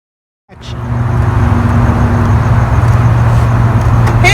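A car engine starts abruptly and settles into a steady, loud idle with a low rumble that holds throughout, with no voices.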